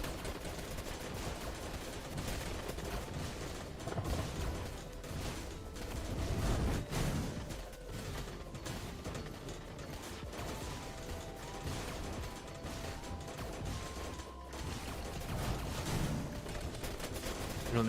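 Weapons fire at Thanatos in Terraria's Calamity mod as a dense, continuous stream of rapid mechanical shots and clattering impacts, fairly faint, layered with game effects and no speech.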